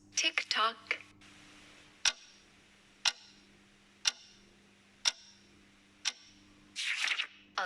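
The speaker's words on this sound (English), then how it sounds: "Clock goes tick-tock." A household clock ticks in a slow, steady rhythm, about one sharp tick per second, fairly close and quiet, with brief bursts of other faint sounds at the start and near the end.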